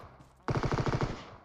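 A rapid burst of automatic gunfire rings out in a first-person shooter game, roughly a dozen sharp shots in quick succession after a quiet moment, then trailing off.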